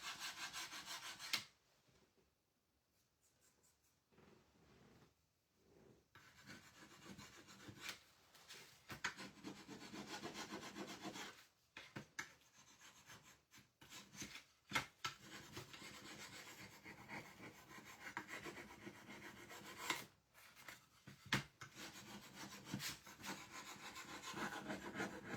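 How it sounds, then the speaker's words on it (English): Paint being scraped off a small wooden tag to distress it, with long rasping strokes and scratchy bursts broken by a few brief pauses, close and quiet. "bit too strong with it and I'll actually scrape off some of the wood"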